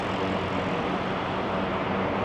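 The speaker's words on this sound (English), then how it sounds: "It sounds like a helicopter taking off, which it probably is." A helicopter takes off from a hospital helipad in downtown Toronto, heard as a steady distant engine drone blending into city background noise.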